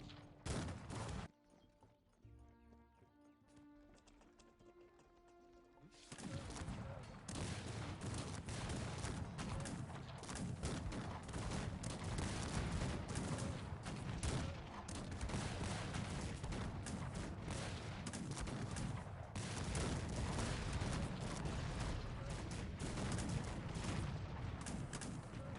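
Artillery and massed musket gunfire in the strategy game Cossacks 3 break out after a brief musical opening, continuous crackling volleys with dull booms, dense and fairly distant.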